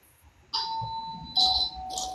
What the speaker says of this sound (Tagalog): Dito May nag-doorbell, di ba?